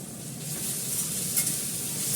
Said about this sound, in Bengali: আলুটা আমি ভালো করে লাল করে ভাজবো